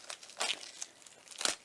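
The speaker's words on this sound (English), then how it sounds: "Sorry that you're having to watch me unwrap her." Plastic wrap crinkling and tearing off a new, slick-finished Otherkin tarot deck, a few short close crackling bursts with quiet gaps between them and no talking.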